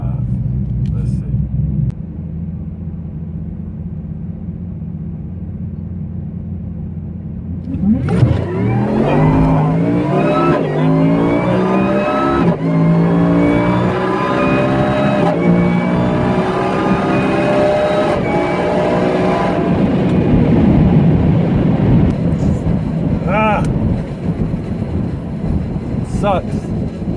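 A 2014 Nissan GTR running E85 roars off the line in a drag race against a Whipple-supercharged F-150, its engine note climbing through rising gears after a low idle rumble, loud and sustained, with crowd voices mixed underneath.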